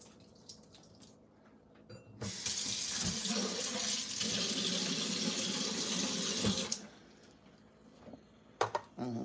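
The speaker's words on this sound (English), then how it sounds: "I'm pouring it down the sink" Liquid from a can of salmon poured down a kitchen sink: a loud, continuous rush of running water lasting several seconds, then it stops, leaving a few small knocks and drips.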